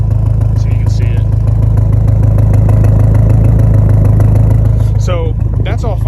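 A BMW M5 with its exhaust valve baling-wired shut rumbles loudly at a steady idle, a deep continuous drone that holds throughout, with a voice briefly audible near the end.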